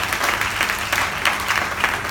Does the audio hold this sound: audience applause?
yes